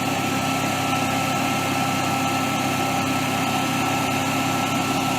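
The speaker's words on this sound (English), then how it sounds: "Engine speed's a little high, look at that." A Generac Honeywell propane generator engine runs at high speed with an overspeed fault, a loud, constant, buzzing drone that stays even for the whole stretch with no talk.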